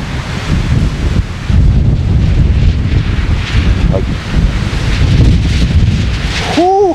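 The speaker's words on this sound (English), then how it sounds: "Pretty gusty at times." Strong gusty wind buffets the microphone on the Newfoundland coast, a loud continuous roar with rising and falling surges, and a brief rising whistle-like tone near the end.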